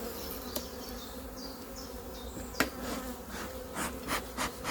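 Honeybees at a hive buzz continuously, close and fairly quiet, with a few individual bees droning past and some light knocks and rubbing.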